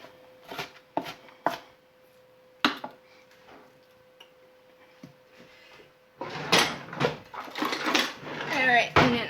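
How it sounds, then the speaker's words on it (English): Kitchen knife chopping and mincing onions on a cutting board: a few separate sharp chops with pauses, then a quicker run of close, irregular cutting knocks, with a quiet hum underneath. "And then I'm just going to mince the onions"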